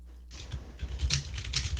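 Rapid, vigorous tapping on a computer keyboard, a dense run of close clicks that keeps going for under two seconds with a low rumble beneath and no one talking.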